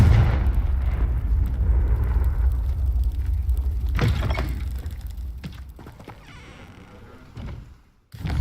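A Confringo blasting-spell explosion in a video game, a loud deep rumbling blast that decays with a few sharp cracks before a brief drop to near silence.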